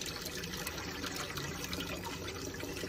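Water runs steadily from a tap while lentils are rinsed for a lentil, rice and vegetable soup, a soft continuous trickle and splash at low level with no talking.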